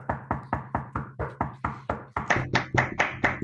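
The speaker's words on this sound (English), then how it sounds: "So let's give them a round of applause." An audience at a mathematics lecture gives a round of appreciation, heard as crisp, evenly spaced knocks or claps repeating about four times a second. The beat stays close and steady and grows slightly fuller toward the end.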